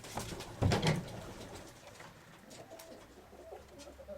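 Pigeons coo softly nearby, with one louder burst of cooing early on and quieter rustling and bird sounds continuing after.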